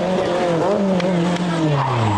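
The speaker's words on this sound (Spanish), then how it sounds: "deslizándose por el asfalto con ese característico gruñido de los motores 4 cilindros franceses" A Renault R5 Turbo with a French four-cylinder engine growls as it slides across asphalt, its engine note sweeping downward while tires squeal, loud and close.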